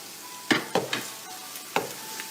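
Tomatoes tipped into a pan of frying garlic and ginger for a chicken kofta with spinach dish, giving a few sharp spoon clatters against the pan over a low, steady sizzle.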